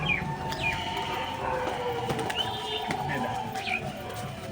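Several pigeons coo repeatedly nearby, soft throaty calls overlapping, with faint chirps and background noise throughout.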